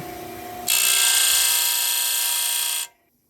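A power tool bevels the edge of an aluminum whistle piece in one loud, steady burst of bright grinding that lasts about two seconds, then cuts off abruptly into near silence.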